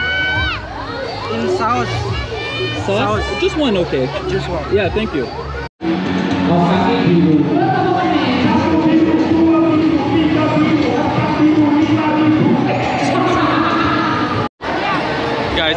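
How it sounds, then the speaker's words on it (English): A large, dense crowd at a busy event in Surabaya, East Java, roaring continuously with shouting children and cheering close around, while a nearby voice talks over the din. "It's gonna be a mission to get out of this crowd"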